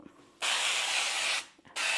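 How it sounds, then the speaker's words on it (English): Two bursts of avocado oil spray hiss from a can while greasing a cake pan for a gluten-free pumpkin sheet cake, a loud one-second spray followed by a brief pause and a second burst starting. "This is also avocado oil spray."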